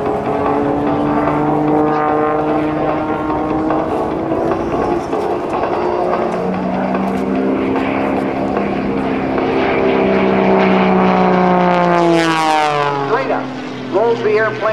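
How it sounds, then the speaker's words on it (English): A Lycoming-engined aerobatic propeller airplane with an MT propeller roars continuously at an air show, its pitch sliding up and down as the plane maneuvers through rolls, with a rising whine near the end. "with that German MT propeller and that Lycoming engine"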